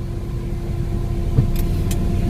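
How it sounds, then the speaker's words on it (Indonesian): A Ford Fiesta 1.4 with automatic transmission creeping forward from a stop as the brake is released, a steady low engine hum and road rumble with a couple of faint high clicks. "Kemudian kita lepas pedal rem pelan-pelan, mobil akan bergerak maju ke depan"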